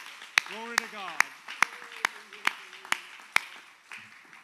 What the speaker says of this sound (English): Let's give him a hand clap of praise tonight.